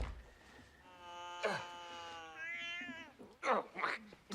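A cat gives a long, drawn-out meow with a rising and falling pitch. Sharp bursts of noise come just before and after it. The sound is fairly close and clear.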